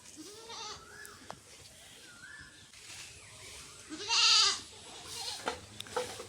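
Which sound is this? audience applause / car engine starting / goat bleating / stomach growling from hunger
goat bleating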